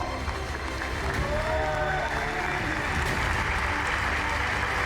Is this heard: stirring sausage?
no